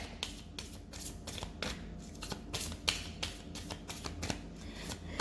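Tarot cards from a Heal Yourself deck are shuffled close up, with quick, repeated riffling flutters and soft slaps in an uneven rhythm, quiet and with no voice.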